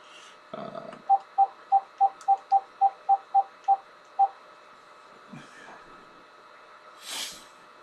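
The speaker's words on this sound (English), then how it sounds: "I'm going to make a quick phone call here while we're doing this" A telephone is dialled for a call, giving a rapid run of about ten evenly spaced touch-tone beeps with a brief low tone just before them and a soft hiss afterward.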